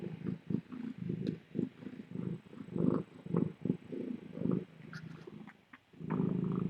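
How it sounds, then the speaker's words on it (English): A tiny kitten purrs softly and closely in a quiet room, a low rhythmic rumble pulsing in short breaths. "Oh, it's good purring."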